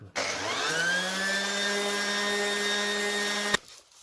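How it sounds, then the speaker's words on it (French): A power sander works the rusty metal frame of a rowing machine being restored, spinning up to a steady high-pitched whine close by for about three seconds before cutting off abruptly. "Allez, c'est parti, on va continuer à poncer tout."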